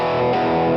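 An electric guitar through a Variac-powered Plexi Marshall amp model, dry with no delay, rings out a single sustained, loud distorted chord.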